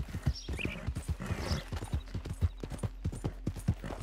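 Horse hooves clip-clopping at a steady riding gait in Red Dead Redemption 2, a continuous run of close, rhythmic thuds lasting about four seconds, fairly quiet, with no talk over them.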